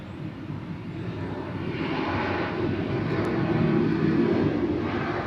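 A passenger airplane rolls past at Atlanta's airport, a broad, steady engine roar that swells gradually and holds strong close by, with no voices over it.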